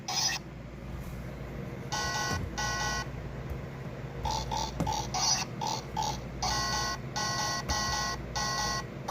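Pig grunts and squeals from a vintage Life-Like battery-powered train sound effects box, a series of short electronic bursts in an uneven rhythm over several seconds, close, with a buzzy tone and no talking.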